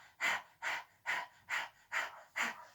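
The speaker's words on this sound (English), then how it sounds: "So it's imagine like panting like a dog." Breath of fire during chair-based yoga: six sharp, rhythmic exhalations forced through the nose in steady succession, close and clear, each a short puffing rush of air with brief quiet gaps between.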